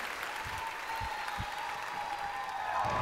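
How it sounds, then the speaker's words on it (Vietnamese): Studio audience applause on a Vietnamese TV talent show, a dense steady patter of clapping with a sustained tone underneath and a few low thumps. "Một tràng vỗ tay thật lớn dành cho Lily."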